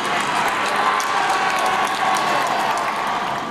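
A dense crowd of jubilant fans cheers and applauds at the 2012 Olympic cycling time trial at Hampton Court, a steady roar of clapping and shouting that holds at one level throughout.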